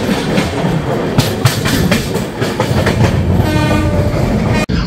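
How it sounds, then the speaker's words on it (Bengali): The Howrah SF Express (12664) pulling into Kharagpur Junction, loud and close, with rumbling wheels, rhythmic clickety-clack over rail joints and a horn sounding partway through, without talk. "আমাদের ট্রেনের লাস্ট স্টপেজ এলো খড়গপুর জংশন"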